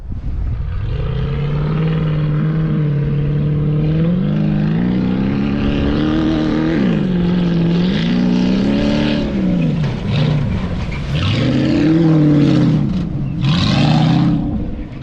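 A loud, close off-road trophy truck engine labors and revs, its pitch rising and falling repeatedly as it climbs a trail, with a brief rattling burst near the end.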